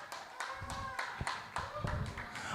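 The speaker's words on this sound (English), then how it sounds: "give Danae another round of applause" A small audience at a financial literacy workshop for community champions gives a round of applause, with sparse, separate hand claps spaced unevenly and heard faintly over a few seconds amid a little talking.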